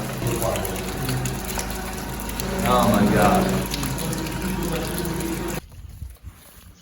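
Water floods into a house under renovation, rushing and gushing steadily nearby, a loud continuous churn that suddenly cuts off near the end, with a startled voice in the middle.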